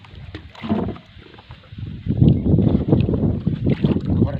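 A small boat moves across water, with a low rumbling drone, splashing and wind buffeting the microphone in uneven surges.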